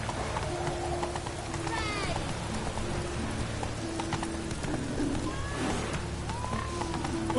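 Hooves of the horse Roach clip-clop at a steady gallop in The Witcher 3, running throughout over a continuous outdoor game ambience with faint rain-like hiss, a brief whinny-like tone, and a voice speaking over it.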